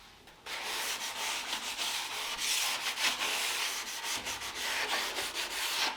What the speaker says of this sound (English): for giving it a sand, I'm going to use the sanding pad